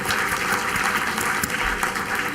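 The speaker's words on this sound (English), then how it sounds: "Let's give them a big round of applause." An audience claps steadily for award winners at a conference valedictory session. The applause is dense and even, filling the room at a constant level, with no voices over it.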